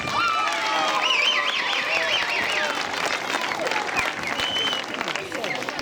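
An audience applauds to welcome a Sardinian folk group, Sa Mamoiadina of Mamoiada. Dense, steady clapping fills the whole stretch, with scattered whistles and voices mixed in.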